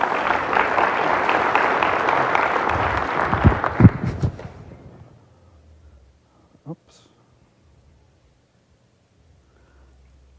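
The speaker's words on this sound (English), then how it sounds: "Big round of applause for them." Conference audience applause rises in a dense, loud wash of clapping for several seconds, then fades out quickly into near silence with a lone faint knock afterward.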